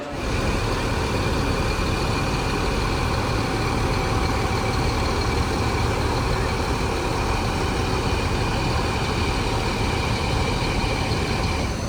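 A Rosalia Indah Executive bus idles before departure, its heavy engine giving a steady, loud, close drone with a constant whine and no pauses.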